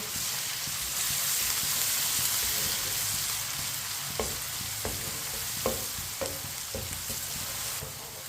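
Onion, crushed garlic and ginger sizzle steadily in a hot pan while a spoon scrapes and stirs, with a few sharp taps against the pan near the end.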